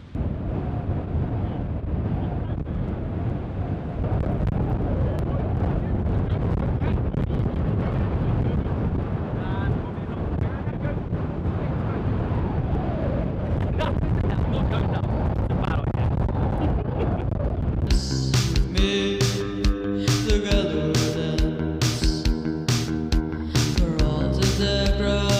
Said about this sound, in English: you guys probably can't hear me because it's way too windy